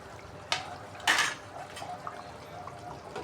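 Crushed garlic cloves stirred into a pot of kavalai fish curry, two sharp spoon scrapes and clinks against the pot over a faint bubbling background, close and quiet.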